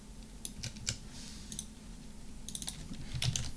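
Computer keyboard typing while writing Java code for a game, a steady run of close, quick key clicks with brief pauses, heard alone.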